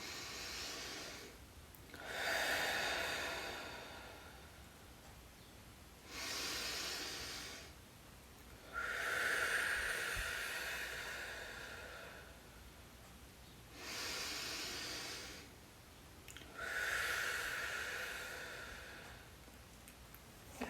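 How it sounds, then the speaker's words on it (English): Slow deep breaths during a facial relaxation routine, each long airy inhale or exhale lasting a few seconds, with four or five broad breathy swells separated by quiet pauses, close and steady with no talking. "let's finish with another set of deep breathing"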